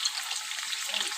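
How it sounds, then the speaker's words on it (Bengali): Potatoes fry in hot oil in a pan, giving a bright, even crackling sizzle throughout, close and fairly loud with no voices. "চলো আলুটা ভেজে নিই"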